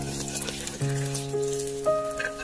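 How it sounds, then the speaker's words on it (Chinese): Beaten egg sizzles and fries in hot oil in a wok over medium heat while being gently stirred with chopsticks; a soft, continuous crackle with light stirring scrapes. "油热之后倒入鸡蛋液， 然后转中火， 用筷子轻轻搅拌一下"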